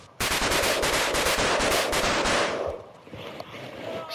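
Firecrackers from a TNT birthday present explode in the video game Just Die Already as a loud, rapid crackling volley of dense pops for about two seconds, then fade into quieter rumble.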